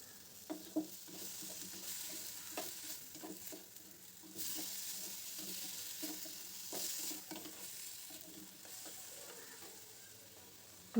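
Soft, steady sizzling of frying in a pan while rohu fish curry with broccoli is cooked and tomato is added. Occasional scraping and stirring clicks sound close by, faint and without talk.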